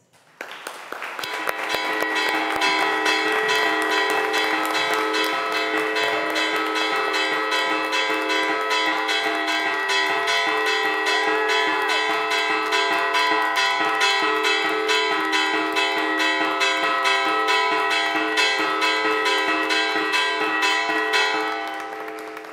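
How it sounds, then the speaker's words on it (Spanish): Cloister church bells ring loud and continuous for about twenty seconds, many overlapping metallic strikes blending into a dense, resonant peal before fading at the end. "hoy las campanas de este claustro suenan por ustedes"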